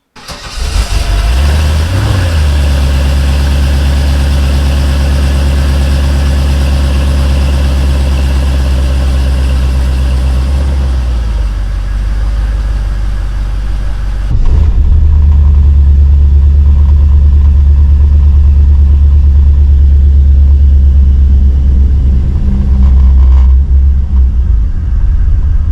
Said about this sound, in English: let me crank this car up so you can hear what it sounds like